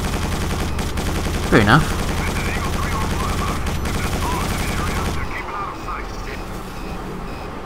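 Rapid, continuous turret gunfire rattles loudly in the Quake 4 video game during an EMP convoy level, a dense mechanical burst with engine rumble beneath that cuts off abruptly near the end, while a person briefly speaks.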